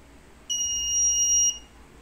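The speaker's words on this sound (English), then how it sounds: "If an RFID is invalid, then the buzzer should sound" A single steady electronic tone from an active buzzer on an ESP32 RFID access system, signalling an invalid card, sounds for about a second, loud and close, then cuts off cleanly.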